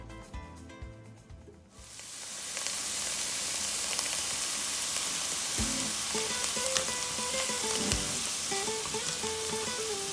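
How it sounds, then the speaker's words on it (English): Onions hit hot olive oil in a pan and burst into a loud, dense sizzle that goes on steadily, with occasional stirring scrapes and clinks up close and no talk. "So I'm all nice and soaked into the olive oil, and sit back and"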